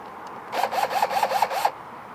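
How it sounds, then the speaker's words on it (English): Hooks being unscrewed on a post light, heard as a close, brief series of about six rhythmic scraping, squeaking turns in quick succession, with quiet surroundings before and after. "Now we have to unscrew these 3 hooks in here so this lines up."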